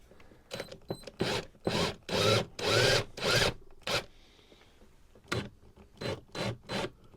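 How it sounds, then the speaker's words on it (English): A power drill running in reverse whirs in a series of short bursts against guitar body wood, some longer and some brief, starting and stopping in an uneven rhythm, close by. "I'm going to put the drill in reverse now so that it doesn't bite"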